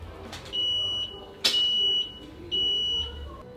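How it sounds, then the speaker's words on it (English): A motorcycle battery tester emits three steady high-pitched beeps, each about half a second long and evenly spaced, with a sharp click between them. "the battery beeped at me"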